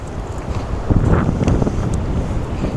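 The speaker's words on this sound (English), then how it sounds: "This wind today is just nuts." Strong wind buffets the microphone at a campsite beside a van, a loud steady rumble with gusts surging around the middle, and no one talks.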